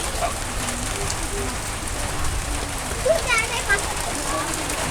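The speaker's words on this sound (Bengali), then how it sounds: "দেখেন বৃষ্টি চলে আইছে" Rain begins falling outdoors in a village where a hired cook is preparing a beef dish for guests; it is a constant soft patter with a few bird chirps.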